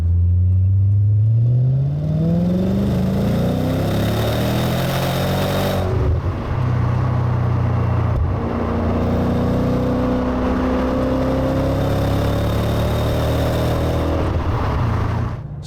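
Maserati GranSport engine pulling from low revs under hard acceleration, a loud rising engine note that climbs, drops at a gear change and climbs again, heard steadily from inside the car with no talk.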